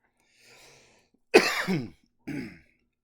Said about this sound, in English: I'm terribly sorry about all the coughing.